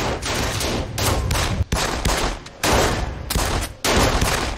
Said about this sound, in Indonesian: Orang ini kembali terluka dan dia menembaki Nick